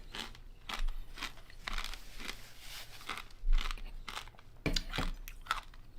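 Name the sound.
crunching vanilla ice cream with sprinkles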